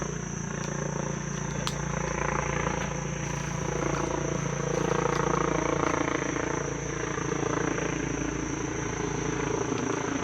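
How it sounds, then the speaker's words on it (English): A helicopter's rotor thumps and drones steadily, swelling slightly as it passes overhead, continuous and fairly loud with no talking. "there's a helicopter passing by"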